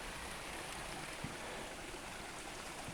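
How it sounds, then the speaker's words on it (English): A small waterfall in a county park flows in a steady, soft rush of water that stays even and fairly faint throughout, with no voices. "Ooh, nice little waterfall here too."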